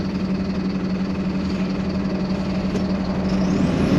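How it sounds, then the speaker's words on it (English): A manual-transmission overlanding vehicle's engine runs steadily at a low idle on a hill in Iceland, with a continuous close rumble and no breaks. "Restart it. You got it this time. You got it. You got this. Little gas. Start letting the clutch out."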